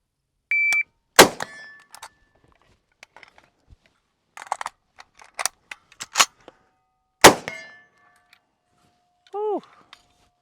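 Ruger Mini 14 rifle fired in a timed drill, a shot-timer beep followed by a sequence of sharp, loud reports with ringing clangs from steel targets, then a final rising beep, with brief speech in between.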